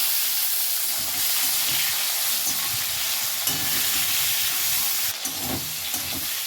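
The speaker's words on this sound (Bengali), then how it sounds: "ফোড়ন ভাজা ভাজা হয়ে গেছে টমেটো কোচাটা দিয়ে দিলাম" Tomatoes fry in hot oil with whole garam masala and bay leaves, giving a loud, continuous sizzling hiss under bursts of stirring and scraping close by.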